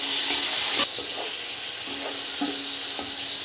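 Tomatoes hit hot oil in a frying pan for chicken biryani with green chillies already browning, giving a bright sizzle that settles into a softer fry while a spoon scrapes and stirs a few times.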